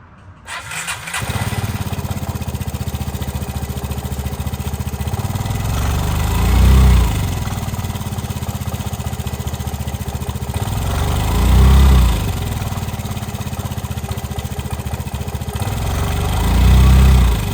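A 2014–19 Piaggio Vespa Fly 150 3-valve scooter on its center stand, running after an evap canister removal: the engine fires up and settles into a steady, loud idle, with low pulsing swells every few seconds and no talking.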